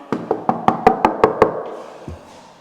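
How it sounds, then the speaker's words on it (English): Knuckles knock on a door seven times in a quick, even, close series, followed by a single softer thump. "I'm just knocking a couple knuckles here"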